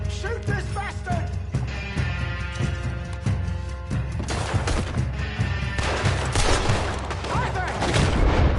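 Rapid gunfire crackles through a shootout in the video game Red Dead Redemption 2, with repeated sharp shots and bursts over music and game sounds, while voices shout.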